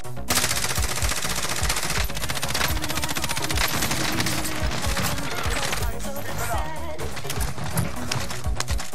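Dense automatic gunfire rattles throughout a shooter video game match, loud and continuous bursts layered over game effects, with faint player talk underneath.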